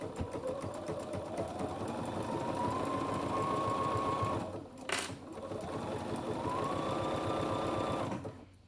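A sewing machine stitches a seam on a pleated knit T-shirt, a close rapid steady whir of needle strokes that pauses briefly midway and then runs again before stopping.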